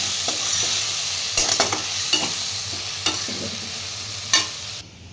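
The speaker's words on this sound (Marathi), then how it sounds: "तेलामध्ये आपण थोडी मिरची परतवून घेऊया आणि आता बटाटा मिरची एकत्र करून घ्यायची" Potato and green chili are stirred and fried in hot oil, with a continuous close sizzle. Several sharp scraping and clanking strokes of a spatula against the pan are spaced through it, and no one speaks.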